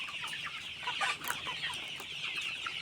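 A crowd of poultry clucks steadily and close in a chicken shed, many birds overlapping in a continuous busy murmur with no talk.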